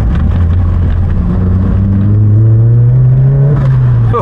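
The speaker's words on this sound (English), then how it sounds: "I just pushed into the throttle then" A 300 hp Mk2 Golf GTI fitted with an S3 engine accelerates hard, heard from inside the car. Its loud, continuous engine drone climbs steadily in pitch throughout.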